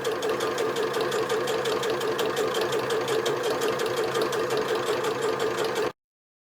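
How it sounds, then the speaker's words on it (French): A sewing machine stitches a seam around a fabric handbag, running loud and close with a rapid, even mechanical chatter for about six seconds before stopping abruptly. "on fait une couture tout autour et on renforce là et là"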